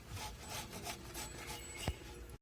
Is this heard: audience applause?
no